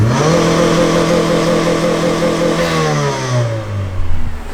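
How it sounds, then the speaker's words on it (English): A Mitsubishi Evo engine revs hard while stationary and out of gear, its loud steady drone rising and falling as the turbo builds boost and the blow-off valve vents near the end, with no voices. "blow-off valve, it is building boost a little bit"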